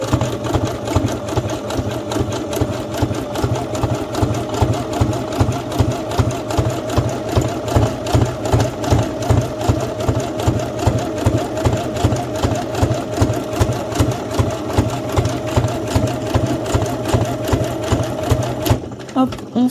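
A sewing machine runs zigzag stitches while a lined rectangular zippered pouch is being sewn: a loud, steady, fast mechanical chatter with a regular pulse that runs almost the whole time, then stops abruptly near the end.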